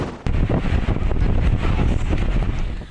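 Strong wind as Typhoon Marce approaches a coastal town, a loud gusting roar buffeting the microphone, with rough surf likely beneath, continuous after a brief lull at the start.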